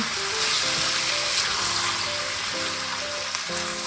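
Pork sizzling and popping in a pan for adobo, a steady dense frying hiss with scattered pops, close and continuous, with faint tonal hum underneath.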